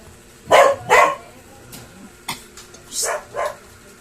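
Loud, close barks from a mixed-breed dog come in two quick pairs with short gaps between, the later pair somewhat softer.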